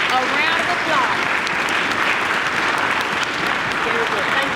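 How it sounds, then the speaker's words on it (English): Audience applause fills a youth orchestra spring concert hall, steady and dense clapping from a large crowd that carries on without a break, with a few voices mixed in. "Can we give Courtney and Grace a round of applause?"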